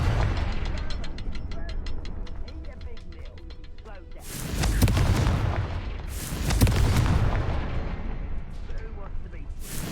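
A Confringo fire spell bursts in Hogwarts Legacy as a series of broad, booming blasts, two large explosions standing out over rumbling game noise, with a voice speaking at times.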